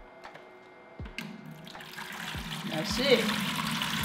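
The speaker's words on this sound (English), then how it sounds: "you're going to use your syringe to start sucking the water out" Aquarium water is drawn out with a syringe-started siphon and trickles and pours into a container, a gurgling flow that builds steadily while a person talks briefly over it.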